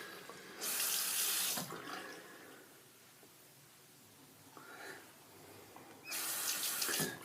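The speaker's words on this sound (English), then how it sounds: "Gonna rinse this off real quick. Okay, go ahead and just rinse off the razor." Tap water runs in bursts as a shaving razor is rinsed under the faucet, with three separate streams of splashing flow and quieter gaps between them.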